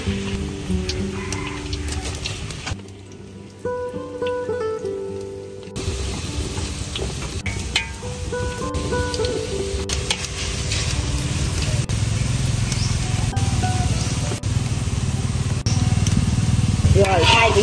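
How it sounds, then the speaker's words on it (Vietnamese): Potatoes dropped into hot oil in a pan, giving a steady dense sizzle that builds and grows louder over many seconds, close up, with occasional clinks and a voice talking over it. "Dầu cũng chắc cũng nóng rồi. Giờ mình để khoai vô."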